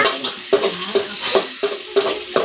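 Onions sautéing and being stirred in a pan for a Tamil-style fish curry, with a steady sizzle broken by a short scraping stir about every half second.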